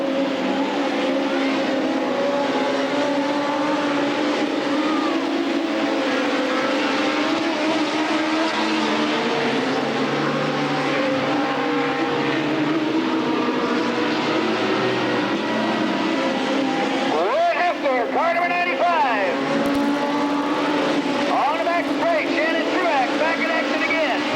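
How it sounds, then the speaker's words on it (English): Sprint cars racing on a speedway oval during a Northern Sprint Tour event at Cottage Grove Speedway, a dense continuous engine roar with rising and falling pitch sweeps as cars pass, with a race announcer talking over it throughout. "Dennis Sargent in the 87, and Mike Parham in that car number 9. Battle for 4th spot"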